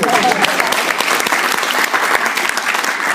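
A seated audience gives a round of applause at an entrepreneurs' event, a dense, steady wash of many hands clapping close by throughout.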